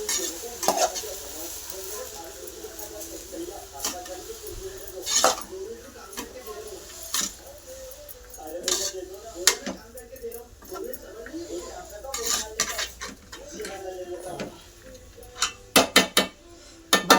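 Kardi leafy greens frying in a pan at a village-style home kitchen, with a steady sizzle under repeated scraping and stirring clatter of a utensil against the pan; no one speaks.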